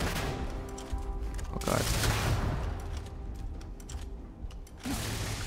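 Spaceship guns fire in a Starfield space battle as a burst of sharp, rapid shots over a steady humming drone, followed by a quieter stretch and another surge of fire, with a brief voiced exclamation.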